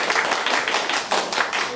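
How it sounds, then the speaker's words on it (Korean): An audience at a Korean poverty-eradication day forum applauding at the opening, a dense burst of clapping that keeps going steadily throughout, slightly pulsing. "다 같이 박수로"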